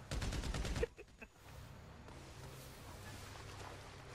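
Burst of rapid gunfire from the video game GTA 5, loud and dense for under a second, followed by a couple of sharp single shots and then a low steady engine-like rumble.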